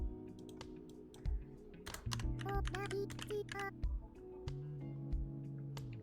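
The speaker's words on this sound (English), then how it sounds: "Do you have Animal Crossing typing sound in your browser" Keyboard typing triggers Animal Crossing-style sound effects in a web browser: quick irregular clicks with small chirpy blips, played fairly quietly with no talking.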